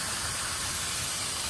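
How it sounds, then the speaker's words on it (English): Aerosol spray can hissing steadily onto car engine parts during water pump removal on a CA20E engine, a close, continuous spray lasting the whole moment with no talk. "I'm gonna spray it down."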